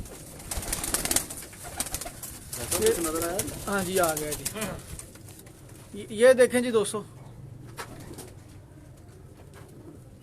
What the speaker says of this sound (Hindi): ये भी बहुत कॉस्टली कबूतर होते हैं ये भी